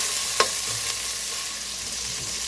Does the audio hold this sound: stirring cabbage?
yes